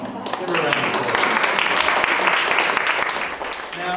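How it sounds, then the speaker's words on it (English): An audience claps for a guest arriving on stage at an International Women's Day event, a loud, dense burst of applause that holds steady for several seconds before tapering off, with some voices mixed in. "Give her a round of applause."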